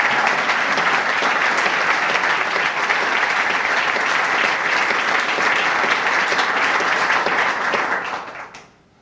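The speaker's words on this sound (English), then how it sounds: "Give him a round of applause." Crowd applause at the opening ceremony of the Jack A. Markell Trail: loud, sustained clapping from a gathered audience that fades out at the end.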